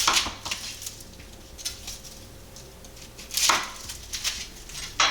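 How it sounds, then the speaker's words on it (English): Onion quartered with a knife on a cutting board, a few sharp chopping knocks spaced apart over quiet kitchen background, one firmer cut standing out midway. "My onion is just going to be quartered."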